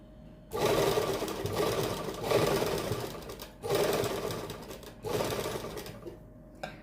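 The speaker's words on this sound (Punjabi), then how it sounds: "ਉਹਦੇ ਉੱਪਰ ਹੀ ਸਲਾਈ ਲਾ ਦੇਣੀ ਹੈ" A sewing machine stitches cotton lace onto a suit in four loud bursts of rapid mechanical whirring, each a second or more long, separated by brief pauses, close by with no talk.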